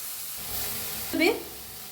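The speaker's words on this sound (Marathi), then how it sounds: "2 घेवडे शेंग भाजून घेऊया" Broad bean pods roast in a hot kadhai, with a low background hiss and then a short, sharp burst of sizzle near the middle as something hits the pan.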